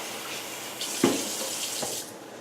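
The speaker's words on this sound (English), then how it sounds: "we'll just give it a quick rinse so it doesn't stick" Cooked rice vermicelli rinsed under a running kitchen tap, a steady close stream of water with a brief louder splash as the noodles meet the flow, fading slightly at the end, no voices.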